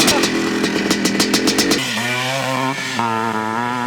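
A Yamaha 465 two-stroke motocross motorcycle engine revs hard and loud, winding up in rapid bursts, then settles into a steady, rising drone with shifting pitch.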